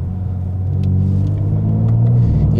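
BMW M4 Competition engine with all settings at maximum, a steady deep rumble building slightly as throttle comes on, loud and close from inside the cabin.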